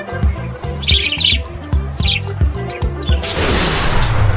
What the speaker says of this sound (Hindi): बजरीगार को हिंदी में बजरीगर कहते हैं। ये छोटा, रंग बिरंगा और बहुत प्यारा पालतू पक्षी होता है।